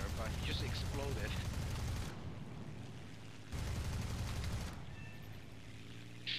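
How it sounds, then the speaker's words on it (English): ShVAK cannon fire in the War Thunder game, rapid bursts in two loud stretches separated by quieter gaps, with a fast fire rate. "ShVAK has a very fast fire rate."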